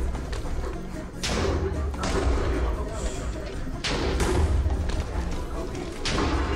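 Several heavy, muffled booms go off at irregular intervals over a dense, steady rumble, with voices faintly mixed into the din, long-range explosions in a Minecraft Techmage tournament.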